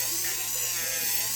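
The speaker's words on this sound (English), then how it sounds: "The rotary tool, the Dremel boy." A Dremel rotary tool sands the edges of a leather card wallet with a steady, high-pitched buzzing whir, close and constant for about a second and a half.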